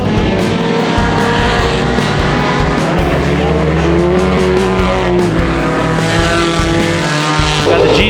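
Race cars roar loudly around an oval track during a wreck-filled event, engines whining and tires squealing as cars make contact and spin, with an announcer's voice running over the din.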